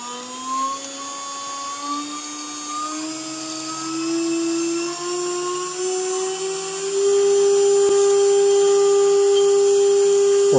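A CNC router spindle started from a WinCNC wireless pendant spins up with a steady high whine that climbs in pitch in steps as the speed rises, running alone without talk.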